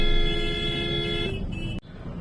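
A sustained car horn blares on a street in Alwar, loud and steady over engine and traffic noise, then cuts off abruptly near the end.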